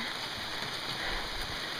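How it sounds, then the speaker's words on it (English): Steady rain falls in Algonquin Park during a canoe portage up a hill over slippery rocks, an even, close hiss of drops without any voices. "Portaging a canoe in the rain, up a hill, on slippery rocks"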